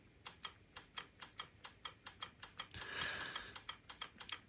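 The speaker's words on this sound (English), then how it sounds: "If I switch this mute, you can hear the relay clicking." Relay and button clicks from a restored ADT recording console, a steady series of sharp, evenly spaced mechanical ticks, close and fairly quiet, with a brief rushing noise partway through.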